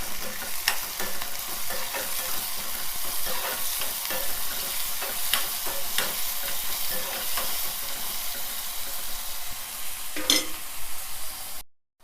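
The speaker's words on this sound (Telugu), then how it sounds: "ఈ ఉల్లిపాయలు ఎర్రగా వేయించుకోవాలి, బాగా వేగాలి." Onions frying in a pan with salt, a steady loud sizzle with scattered scrapes of stirring, continuous and close, ending abruptly.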